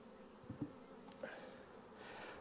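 A faint, steady buzzing of honey bees around a hive drifts in the background, with a few soft knocks near the start and no voices.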